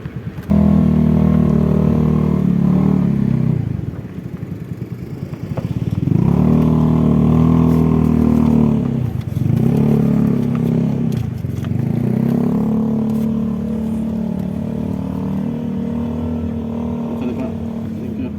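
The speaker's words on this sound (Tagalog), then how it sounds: "May motor pa." A motorcycle passes on a road in Tagaytay, its engine rising and falling in a steady drone with a brief dip midway, fairly close and loud throughout.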